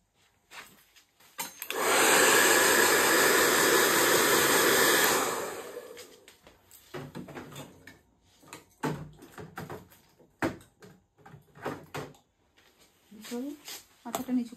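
A hair dryer blows with a loud, steady whooshing roar for about four seconds and then switches off. Light door and household clatter follows, and voices talk over it.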